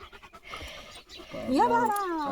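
A village farm dog pants in quick, rhythmic breaths close by, and a voice joins partway through.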